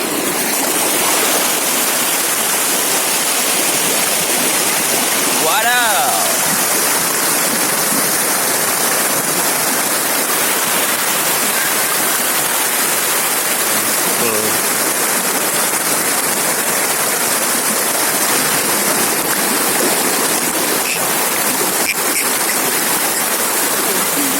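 Fast, heavy river current rushes over the Waela dam in Central Maluku, a loud, continuous roar of churning water close by.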